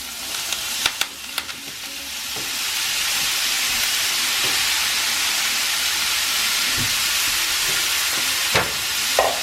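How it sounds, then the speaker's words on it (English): Ground beef frying in a small amount of olive oil for homemade marinara spaghetti, giving a steady close sizzle and hiss throughout with a few light clicks of stirring, no voices. "So I only added a little bit of olive oil because the ground beef already has some fat, and that's enough to get the ground beef cooking."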